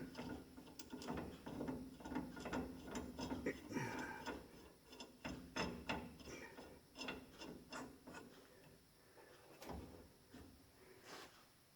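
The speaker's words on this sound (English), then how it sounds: "I'll just thread these nuts on here, just finger tight for now" Metal nuts threaded by hand onto new U-bolts on an 1989 GMC truck, close small clicks, scrapes and ratcheting rubs in uneven bursts, no talking.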